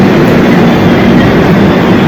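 A loud, continuous train rumble with a steady rolling roar near Coimbatore, heard from on board and without any voices.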